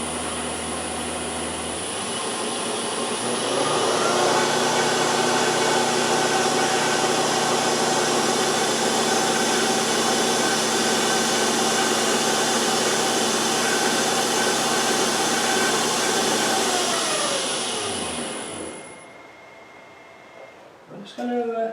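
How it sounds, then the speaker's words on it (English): A screechy whine from the shaft of an LT230 transfer case under bench testing, rising to a loud sustained mechanical howl for about fifteen seconds before spinning down. "A lot of that noise, that screechy noise, will be coming from my shaft."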